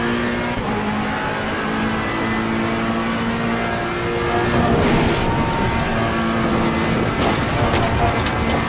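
A GT3 race car engine at Spa in Assetto Corsa Competizione, holding a loud, steady high-revving drone through the whole stretch, with brief rises and shifting tones toward the end.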